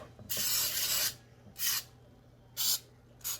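Several hissing bursts of cooking spray into a pan: one long spray followed by three shorter ones, close and fairly quiet, with no talking.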